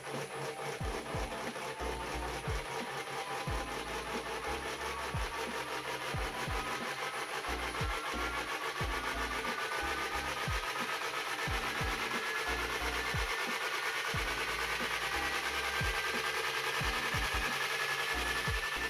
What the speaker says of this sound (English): I decided to test the motor at speed.